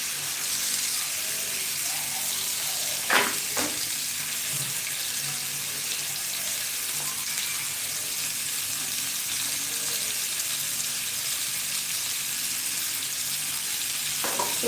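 Chicken with sliced carrots and garlic-ginger fries in a pan, a steady hissing sizzle running for the whole stretch, with a few sharp clinks of a stirring utensil near the start and end and no talking.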